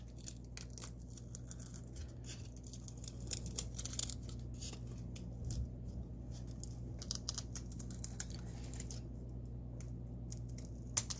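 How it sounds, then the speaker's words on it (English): Scissors snip a small paper circle out for a six-inch fireworks can shell, giving soft, quiet repeated cuts and crinkles over a steady low hum, with no talking. "I'm going to cut this little circle out"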